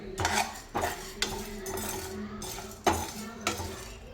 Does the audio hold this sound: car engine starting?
no